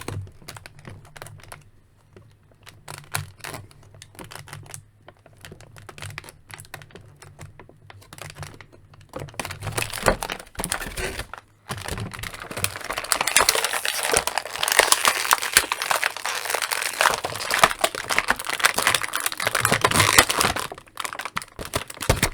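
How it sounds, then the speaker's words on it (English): Plastic ties are threaded out of the packaging of a McFarlane DC Multiverse Death Metal Superman figure, making quiet, scattered ticks and rustles at first, then a louder, denser crinkling and crackling of packaging near the end. "instead of cutting the ties out, I just try threading them out"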